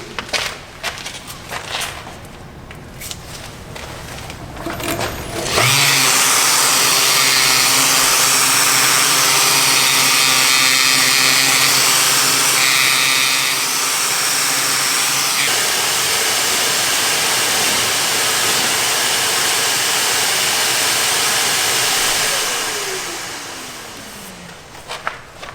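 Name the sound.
sanding a wooden platter on a lathe with 180-grit sandpaper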